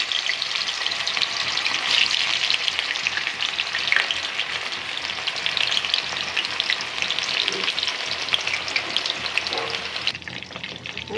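Chicken shashlik pieces sizzle and crackle steadily in hot oil, a dense, continuous frying hiss throughout with no talking, cutting off abruptly near the end.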